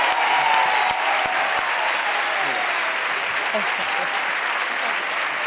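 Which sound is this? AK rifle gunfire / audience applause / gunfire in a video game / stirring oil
audience applause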